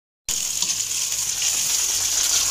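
Okra (bhindi) hits hot oil with a sudden loud sizzle that continues as a steady, bright hiss of frying, close up and with no voices.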